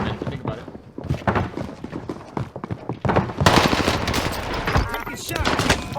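Rapid bursts of automatic gunfire in the Warzone video game, loud and dense, with repeated shots throughout and heavier firing in the second half, mixed with a voice talking underneath.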